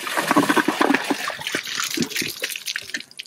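A Kohler toilet flushing in a bathroom during a side-by-side brand comparison, a close, loud rush and gurgle of water that starts strong and gradually thins into splashy trickles as the bowl drains.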